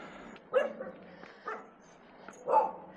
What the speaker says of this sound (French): Il y a pas mal de chiens qui nous aboient